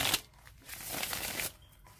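A deck of tarot cards is shuffled in a quiet room, giving soft, papery rustling bursts of crinkling and flicking that swell and fade over a couple of seconds.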